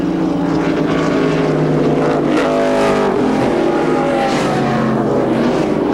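Stock race cars roar past at Riverside during the 1987 Budweiser 400, engines near top speed of about 155 mph, a loud continuous drone with pitch sweeping up and down as cars pass.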